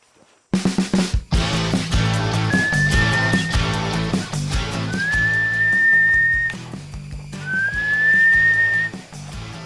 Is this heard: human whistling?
yes